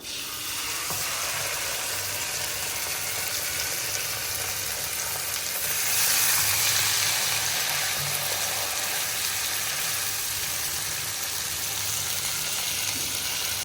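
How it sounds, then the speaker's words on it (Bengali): Chicken pieces for a creamy garlic chicken dish fry in a pan with a steady, close, loud sizzle that swells briefly midway and continues without any talk. "মাংস পিসগুলো ভেজে নেব।"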